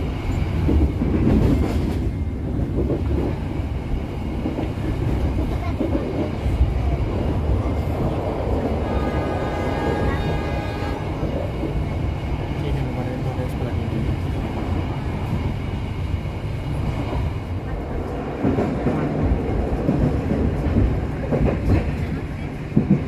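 Inside the Tawang Alun passenger train running from Banyuwangi to Malang, a continuous rumble of wheels on rails with rhythmic clickety-clack and carriage rattle, steady for the whole stretch, with faint voices now and then.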